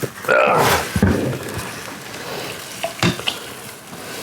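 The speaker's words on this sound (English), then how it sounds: "I'm going to stir the rest of the grain and let finish this starch conversion up." Barley, wheat and rye grain in a bourbon mash are stirred during starch conversion, producing close, wet sloshing and swishing strokes with a couple of soft knocks.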